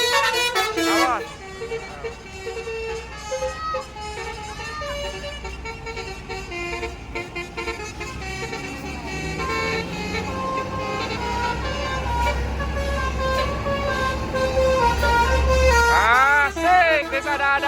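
A convoy of eight RJB Trans buses blasts basuri horns, playing loud melodic multi-note tunes in repeated bursts over a low engine rumble that swells toward the end.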